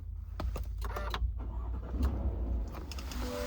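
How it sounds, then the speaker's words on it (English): Push-button start of a GMC Sierra: a short starter whir leads into the engine catching and settling into a low idle, heard from inside the cab and fairly quiet, with no voices. "Did you see that? The vehicle turned on."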